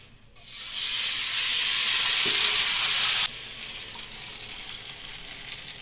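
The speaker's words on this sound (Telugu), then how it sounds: "మా హస్బెండ్కి పిజ్జా నచ్చదు, అందుకని అతని కోసం ఇక్కడేమో ఉత్తప్పం వేస్తున్నాను" Uttapam batter hitting a hot pan, a sudden loud hiss that holds steady for about three seconds, then cuts off sharply and leaves a faint crackling simmer.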